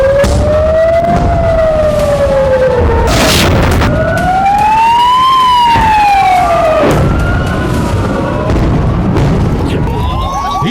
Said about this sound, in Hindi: कलेजे को चीर देने वाली अलर्ट सायरन की आवाज